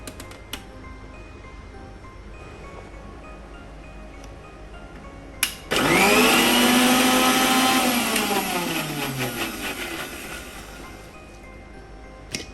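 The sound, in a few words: blender blending mint chutney ingredients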